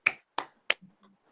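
Three sharp, evenly spaced hand claps or snaps ring out close and crisp in a quiet church Bible study setting, followed by a couple of soft trailing sounds.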